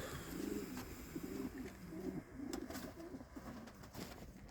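Racing pigeons coo repeatedly in a loft, a soft, low rhythmic burbling in several close phrases over faint background noise.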